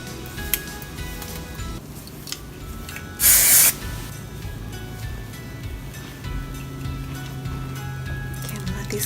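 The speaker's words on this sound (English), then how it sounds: "Now I'm going to spray a little bit of the finishing texture spray just to kind of loosen up these curls" Finishing texture hair spray released in one short aerosol burst of under a second, loud and close, standing out from soft background handling sounds with no talking over it.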